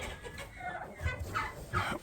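Chickens, roosters and turkeys clucking in a low, uneven murmur, with a few louder squawks rising over steady background noise.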